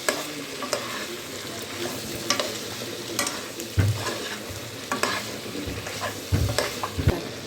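Andhra chicken curry with chicken masala and green chillies stirred in a hot pan, a spoon scraping and knocking with a steady sizzle underneath, close and fairly loud.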